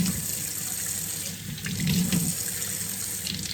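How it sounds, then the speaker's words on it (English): Tap water runs steadily into a sink while anchovies are rinsed under it, a continuous close splashing rush with slight swells in intensity. "Go run yours through water"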